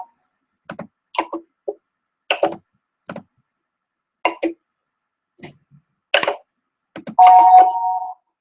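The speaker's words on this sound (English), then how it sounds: "That's my phone going off." A mobile phone goes off at the very end as a short, clear electronic tone, loud and near, after a stretch of sparse small clicks and knocks in a quiet room.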